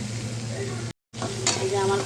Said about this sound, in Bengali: এখন ভালো করে একটু নাড়িয়ে নিই।